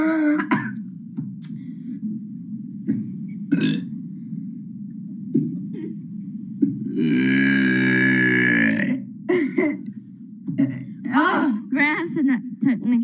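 A long, drawn-out human burp taken in with a breath, loud and close, with short bursts of talk and laughter before and after it.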